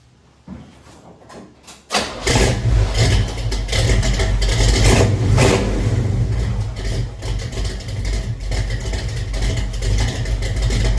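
A car engine, a project vehicle with power steering trouble, cranks and catches after a couple of quiet seconds, then settles into a loud, rumbling idle with small surges, close by and without speech.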